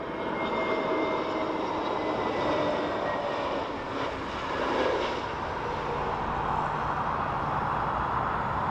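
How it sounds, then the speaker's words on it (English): Jet airliner taxiing at Dublin Airport, a steady broadband engine roar and whine heard from a distance, fairly faint and unbroken throughout with no talking. "We have JetBlue taxiing."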